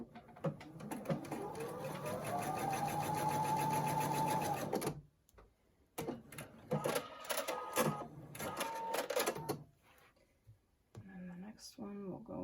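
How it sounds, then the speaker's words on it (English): A sewing machine stitches quilt block pieces for a scrappy pumpkin block, running steadily for about five seconds, then starting and stopping in short bursts with clicks and handling noises. "then we're going to sew the stem parts diagonally"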